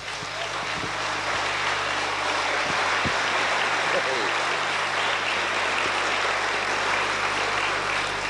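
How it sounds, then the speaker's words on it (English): A holiday-camp cabaret audience at Butlins Barry Island in 1985 applauds a band, a broad, even wash of clapping that stays steady throughout and blurs into a continuous roar. "Oh, they love that applause."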